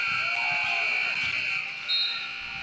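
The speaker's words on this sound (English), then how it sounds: "At the buzzer is White off the mark" An end-of-quarter buzzer sounds at a boys' varsity high school basketball game, a steady, harsh tone that runs for a couple of seconds over crowd murmur in the gym, then cuts off.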